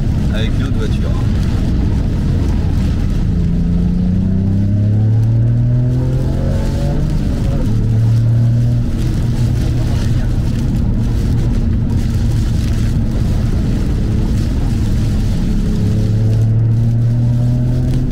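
A Toyota Yaris GR Track Pack fitted with an Akrapovic exhaust revs loudly and continuously, engine pitch climbing and falling in repeated sweeps, with a voice talking faintly underneath.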